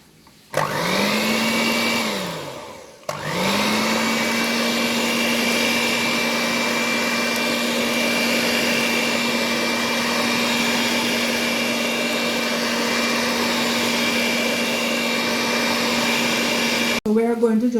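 A blender-like kitchen mixer whirs steadily as it creams butter and sugar for a Christmas fruit cake, loud and close. The motor spins up, dips and stops briefly near the start, then hums evenly until it cuts off at the end.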